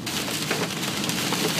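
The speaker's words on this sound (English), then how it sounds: "That's big hail." Golf-ball-size hail pelting a car while driving through a storm, a dense, continuous clatter of hard impacts on the body and glass, loud and close throughout.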